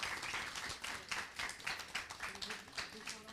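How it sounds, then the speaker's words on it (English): Applause from an audience at a school board workshop showcase, honoring committed team members; scattered, moderately distant clapping with mixed-in voices, steady for a few seconds. "If we can have one more round of applause for all of our committed members"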